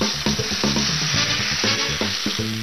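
Noodle nests frying in hot oil give a loud, dense, continuous sizzle heard up close, with the bubbling surging as the noodles are moved in the pan.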